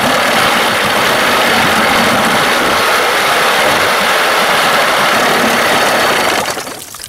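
An Evinrude 25 outboard motor running steadily, a loud continuous close-up engine drone with rattly vibration that holds for several seconds before dropping off near the end.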